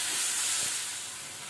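Tomatoes fry in a hot pan until soft, giving a steady bright sizzle that fades slightly toward the end, brief and close with no voices.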